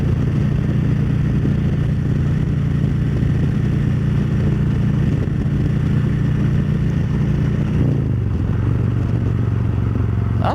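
A motorcycle cruises down the road in fifth gear at about 65 mph, just under 3,000 RPM, giving a steady, loud, continuous engine drone with wind rush and a slight dip in pitch near the end.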